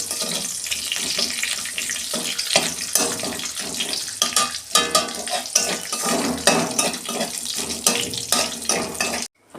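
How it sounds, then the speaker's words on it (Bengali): Bay leaf and five-spice (panch phoron) hit hot oil in a kadai, giving a continuous close sizzle and crackle with a few clattering pan knocks and no talk. "এই যে তেজপাতা দিচ্ছি, পাঁচ ফোড়ন দিচ্ছি"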